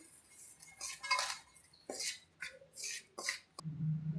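A spoon scrapes and clinks in a bowl while gram flour is mixed with turmeric and salt, soft intermittent strokes in short bursts, then a low rumble at the close.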